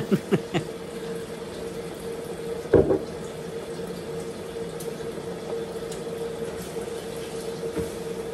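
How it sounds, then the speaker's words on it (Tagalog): A kitchen tap runs steadily as hands are washed under it, a continuous close splashing stream with a brief louder knock of clattering partway through. "Hugasan ko muna yung kamay ko."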